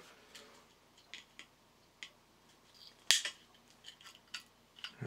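Cutters trimming the excess wire leg of an LED while building a 3D printed walking robot, a few faint ticks and handling noises, then one sharp close snip.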